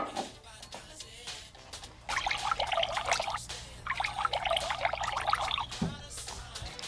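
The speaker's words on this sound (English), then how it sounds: "Pour some water into 2 identical glasses." Water poured into one of two identical glasses, two bright trickling streams a few seconds apart over a low steady hum, with no voices.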